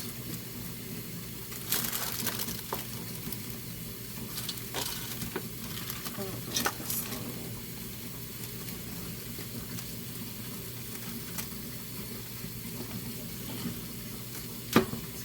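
Mixture for a pineapple upside-down cake stirred around a frying pan, giving a faint steady scraping and soft sizzle, with a few louder clinks of the utensil against the pan.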